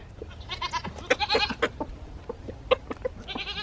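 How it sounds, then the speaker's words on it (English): Several goats bleat nearby in quick, overlapping calls of varied pitch while being tossed food, some loud and close, others fainter, with brief pauses between bursts. "Every time I toss it, the goats move over further and further."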